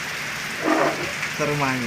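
Rain falls steadily in a soft, even hiss that runs through the whole moment, while someone speaks briefly over it.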